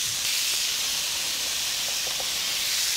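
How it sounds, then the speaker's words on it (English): Zucchini frying in olive oil in a pan makes a continuous bright, hissing sizzle that stays steady and fairly loud throughout, with no talking. "A little bit of olive oil, and we'll fry the zucchini."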